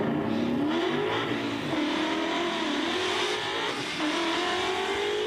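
A stick-shift Fox body car with small tires revs its engine at a street and drag racing event, giving a loud, continuous, rising and falling engine roar close by with no talk.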